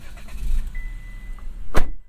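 A 2025 Buick Envista with a 1.2 liter turbocharged inline-3 engine starting: a low rumbling churn, a faint whine, then one sharp loud burst before it cuts to quiet.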